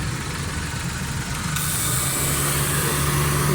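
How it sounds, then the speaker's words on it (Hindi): A Suzuki Mehran 2019 Euro model car engine idles steadily with the AC running, a constant low hum with broadband noise that shifts slightly in tone partway through, no talking. "इंजन का साउंड भी सही था"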